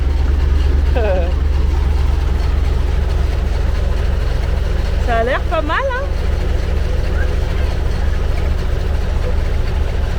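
A steady, loud engine rumble runs low and constant throughout, with no clear rise in pitch, while voices speak briefly over it.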